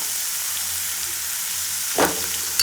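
Chopped onion frying in a pan for rasam, a steady soft sizzle throughout with a sharper scrape or clatter near the end, no voices.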